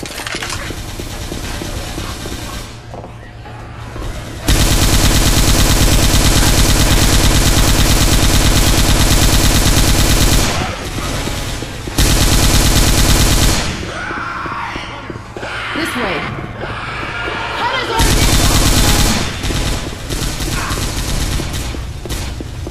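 Gunfire from Left 4 Dead 2 during the Gib Fest mutation, with dense, sustained automatic and mechanical shooting in long loud stretches and brief lulls, mixed with other game sounds.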